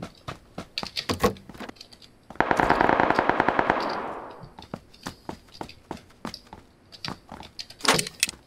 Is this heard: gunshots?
yes